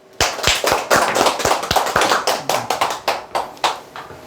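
A small group claps at a sales lecture on insurance and telemarketing careers, sharp distinct hand claps in a quick uneven run that keeps going for several seconds at close range.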